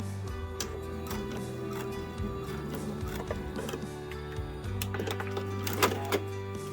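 A sewing machine stitches across a quilt corner with a quiet, steady mechanical whir, broken by brief ticks and pauses as the fabric pivots, close by and fairly soft.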